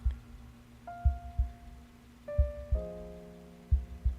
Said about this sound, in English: All I hear now is Caleb's heartbeat, and then it slowly fades into the distance.